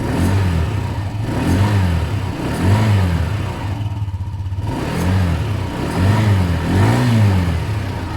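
A Honda PS 125 moped engine runs steadily with its back wheel turning, giving a loud, close, continuous drone that rises and falls in repeated revving swells.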